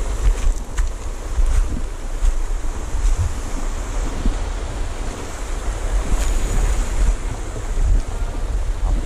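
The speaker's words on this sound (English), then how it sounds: "Big waves coming in too." Big ocean waves roll in at a fishing spot near Matelot, a loud continuous surf roar with wind rushing across the microphone and no voices.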